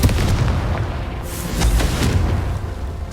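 A Confringo blasting spell detonates in Hogwarts Legacy with a loud, deep, rumbling boom that carries on as a dense roar for several seconds, with a second swell of blast noise partway through and no talking.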